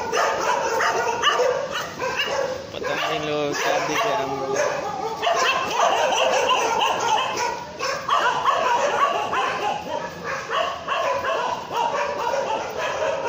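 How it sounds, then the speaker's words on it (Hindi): Several dogs bark repeatedly at night in a narrow Delhi residential lane lined with parked bikes and scooters, sharp yips and barks carrying through steady street ambience while people talk nearby. "कुत्ते भौंक रहे हैं,"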